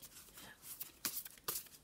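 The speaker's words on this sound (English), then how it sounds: "I prefer shuffling it in this way." Oracle cards are shuffled by hand in a quiet room, giving soft papery riffles and several sharp flicking bursts in quick succession, close and faint.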